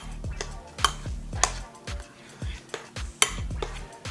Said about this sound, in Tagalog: Tapos lagyan na natin tong coconut milk na may mangga. Tapos haluin nyo.